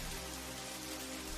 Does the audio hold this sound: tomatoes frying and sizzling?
no